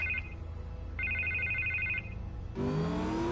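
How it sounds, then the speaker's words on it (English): A phone ringing in the video game Batman: The Telltale Series, with two clear electronic ring bursts separated by a pause, followed by a sudden swell of game music or ambience. "Let's call Harv."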